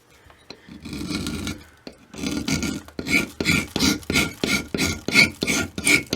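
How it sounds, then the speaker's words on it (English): A rasp files plaster from a foot cast for an orthotic, with close, loud scraping that starts in long strokes and then settles into a steady run of quick rhythmic rasps. "So I'm going to remove plaster right here."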